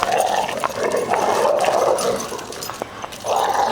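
A black Labrador plays at Hamlin Park dog park, making close, loud growly whines and grumbling vocalizations in several drawn-out bursts against outdoor background noise.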